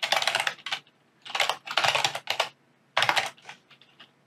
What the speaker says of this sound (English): Now we're going to name the prefab.